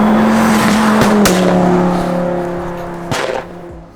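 During a police car chase, a car speeds past with tires squealing in a sustained high whine, loud and near, then fades as the car pulls away, with a sharp bump near the end.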